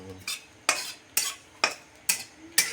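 Black cumin seeds being dry roasted and stirred in a pan, with sharp scraping strokes of a spoon against the metal coming in a steady rhythm, about six in under three seconds, close and clear with no talking.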